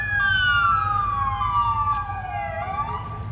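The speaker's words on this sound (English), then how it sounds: "Everyone's just turning on their cars, putting on their sirens." Emergency vehicle sirens wail close by, a loud descending siren tone sliding down over steady traffic rumble, with other siren layers overlapping.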